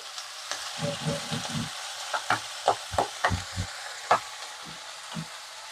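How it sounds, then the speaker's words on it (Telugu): Fenugreek leaves frying in hot oil give off sharp, irregular sputtering pops and crackles, loud bursts standing out against a quieter sizzling background. "మెంతాకు ఎప్పుడు కానీ ఆయిల్లో వేసినాక చిప్పట్లాడుతూ ఉంటది."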